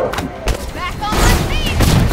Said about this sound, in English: Claw has taken over the turrets here.